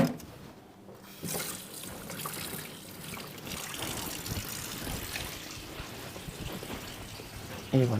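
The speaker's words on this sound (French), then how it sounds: "Donc les fouets, un petit coup de rinçage." Pastry whisks are rinsed under a running tap in a kitchen, a steady trickle and splash of water that continues throughout, with a voice speaking over it.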